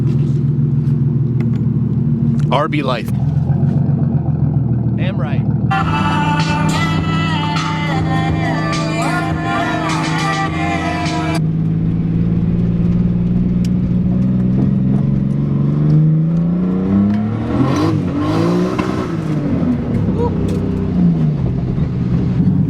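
A car with a 2JZ engine swapped into a 300ZX build idles and drives, a steady loud engine drone that swells and revs, with a short burst of other noise and brief casual talk over it.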